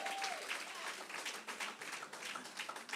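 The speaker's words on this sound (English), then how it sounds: "Give her another round of applause, please." An audience claps steadily at a political campaign rally in Central and South Eleuthera, Bahamas. The dense, fairly faint applause lasts the whole stretch, with a voice faintly under it.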